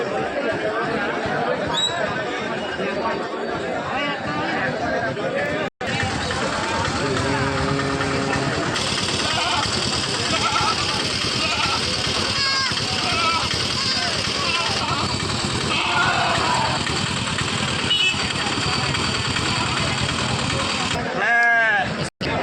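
Goats and sheep bleating repeatedly at a busy open-air livestock market, mixed with crowd chatter and people talking nearby, plus a low idling engine in the background.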